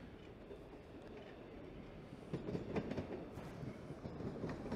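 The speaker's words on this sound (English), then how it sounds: "here comes a southbound Line 1 train" A southbound Line 1 subway train on the Toronto subway near Eglinton Station rolls past on a snowy winter day. Its faint, distant rumble and clatter swell slightly toward the end.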